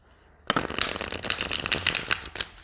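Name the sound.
shuffling a deck of tarot cards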